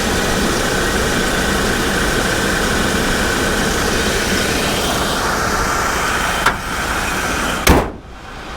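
A 1985 GMC C1500 Sierra pickup idles while warming up, a steady loud engine drone with constant rumble, broken near the end by a couple of sharp clicks before the sound drops away.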